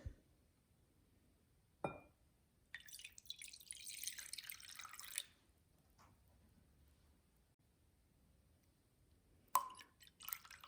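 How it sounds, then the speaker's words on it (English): Water pours briefly into a bowl of royal icing mixture, with a few clinks before and after and quiet pauses between. "you add in your water."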